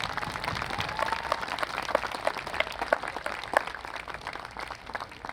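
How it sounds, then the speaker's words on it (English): A crowd applauds high school marching band students at a show, steady sustained clapping with scattered louder claps, continuous across the whole span with no voices over it. "Let's give our students another round of applause."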